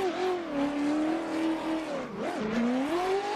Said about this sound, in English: Downshift to fourth.